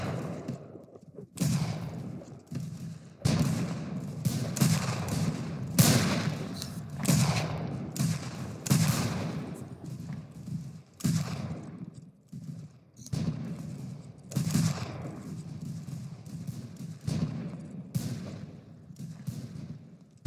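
Volleys of musket and rifle gunfire at a battle reenactment, with sharp, loud shots cracking in irregular bursts and overlapping fusillades throughout, echoing thuds underneath.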